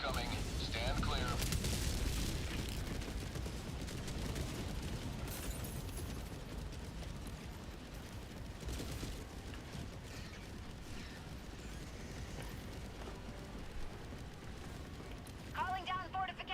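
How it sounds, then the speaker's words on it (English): Explosions from an orbital barrage in the video game Helldivers rumble and crack one after another over about sixteen seconds, a dense low roar with a game voice and mechanical clatter mixed in. "Orbital barrage incoming. Stand clear."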